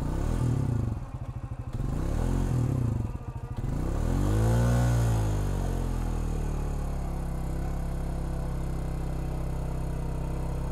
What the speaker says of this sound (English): Good thing this winch has enough power to pull this thing out.